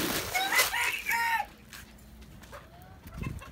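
Lohmann hens cluck loudly close by outdoors while a rooster crows, followed by quieter scattered clucks and a brief low voice near the end.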